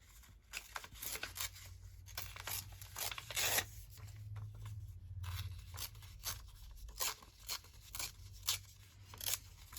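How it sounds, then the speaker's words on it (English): Scrapbooking paper torn by hand for junk journal pieces, a series of crisp ripping and tearing bursts with rustling handling between them, close and fairly quiet, no talking. "I'm going to tear it. I'm not going to cut it."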